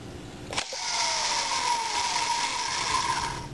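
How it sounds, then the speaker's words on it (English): A 1903 Wagner electric motor's brush-resetting mechanism gives a sharp mechanical click, followed by a loud, sustained, even whine that holds steady up close. "Now the brushes have reset, and this motor is ready to start up and run again."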